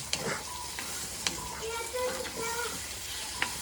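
Onions and tomatoes sauté in a pan with a soft, continuous sizzle, broken by a few sharp stirring scrapes, while a voice murmurs faintly in the background.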